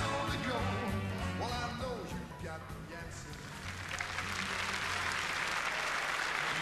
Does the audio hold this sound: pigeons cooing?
no